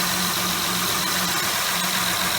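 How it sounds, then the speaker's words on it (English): A 2007 Honda Pilot engine idles close by with a faulty, whining alternator, a steady engine rumble carrying a thin whine and faint ticking throughout, no talk. "engine's running, whining is going"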